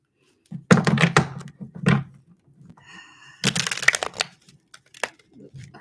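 Tarot deck being shuffled: two loud riffling bursts of card slaps, close up, with a softer crinkle between them.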